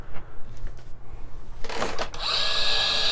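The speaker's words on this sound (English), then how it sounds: "So whenever I go down, I like to run it first. I like to run a grinder." FemoBook coffee grinder, where a few faint clicks and knocks give way to a loud high whirring grind that starts partway through and continues to the end.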